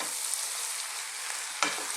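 Vegetable curry bubbling in a lid-covered pot above a simmer, a steady close sizzle and crackle with one sharper clink partway through, no talking.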